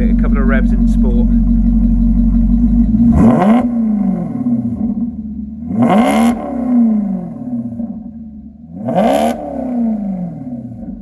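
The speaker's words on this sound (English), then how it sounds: "we're going to give it a couple of revs in sport." A 2018 Maserati MC Stradale idles, then its engine is revved in sport mode three times, each sharp rising blip roaring up and falling back close by, with someone talking over the idle.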